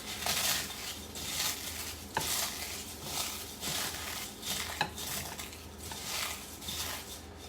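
Hands crush dry food, likely chips, for a chicken taco casserole, giving a continuous crinkly rustle and crunch in repeated close squeezes with occasional sharper cracks.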